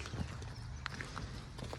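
Cows walking into the parlour on a dairy farm in the morning, with soft repeated hoof steps on hard ground against steady low farmyard noise.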